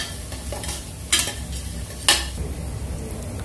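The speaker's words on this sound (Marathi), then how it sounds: "कोथंबीर कांदा आणि तेलावरती एक चमचा हळद घालायची आता ते पुन्हा परतून घेऊया" Onion, coriander and turmeric sauté in hot oil in a pan for a mutton curry, a soft continuous sizzle broken by two sharp, loud spoon scrapes against the metal, heard up close with no voices.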